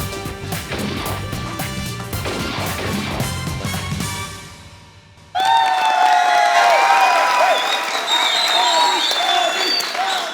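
Studio audience applause at a Pakistani comedy TV show about the India–Pakistan Asia Cup: loud music and crowd noise give way after a brief lull to a burst of loud, sustained clapping and cheering.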